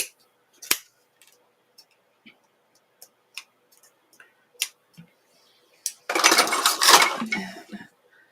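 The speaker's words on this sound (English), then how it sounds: "it really helps to have a dainty pair of sharp scissors" Small sharp scissors snip paper or cardboard in a series of crisp, isolated clicks spaced apart, close and quiet, followed by a louder burst of rustling handling noise toward the end.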